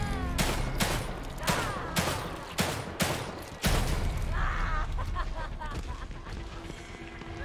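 Repeated loud gunshots from a video game, The Evil Within, fired at a creature's head: several sharp blasts spaced about half a second apart, then a denser burst, over a steady background rumble.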